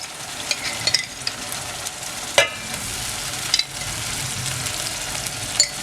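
Tomato and pepper paste sizzling and frying in a pan while being stirred, a constant crackling hiss broken by a few sharp clinks of a utensil against the pan.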